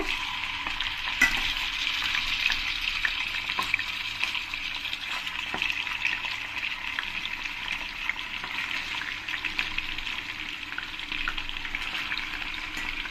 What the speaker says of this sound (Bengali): পরের চিকেনগুলো আমি একইভাবে ভেজে নেব